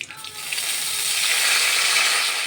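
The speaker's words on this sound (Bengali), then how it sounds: "এবার একটা বাটিতে এবার কিছুটা বড়ি ভেজে নেব আর কিছুটা তেলের মধ্যে মেথি ফোড়ন দেব" Lentil dumplings and fenugreek seeds frying in hot oil, a loud bright continuous sizzle that swells within the first half second and holds steady.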